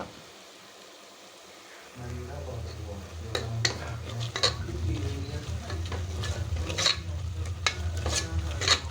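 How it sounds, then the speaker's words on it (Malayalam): Turmeric and chili powder being sautéed in a pan for a Kerala Sunday lunch: steady sizzle begins after a quiet start, with stirring scrapes and utensil clinks throughout, close and moderately loud. "സിമ്മിൽ വെച്ചിട്ട് വേണം നമ്മൾ ഇത് നല്ല വഴറ്റി കൊടുക്കാൻ"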